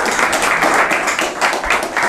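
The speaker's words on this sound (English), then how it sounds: "with one round of applause" An audience at an evening talk on marriage and family applauds steadily, a dense, continuous wash of clapping throughout.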